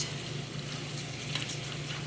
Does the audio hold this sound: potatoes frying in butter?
yes